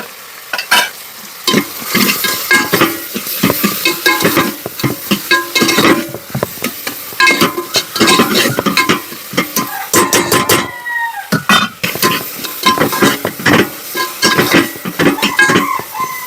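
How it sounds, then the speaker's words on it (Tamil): Tomato and onion sautéing in a pan for goat intestine and lung curry, loud steady sizzling with frequent scraping and clanking of a spoon against the pot, close by, with no talk. "தக்காளி வெங்காயம் வதங்கிச்சு."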